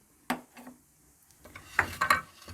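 Curry leaves, mustard seeds, cumin and fenugreek seeds hit hot oil for mirchi ka salan, giving a few quiet spurts of sizzling and crackling with light stirring and utensil clinks.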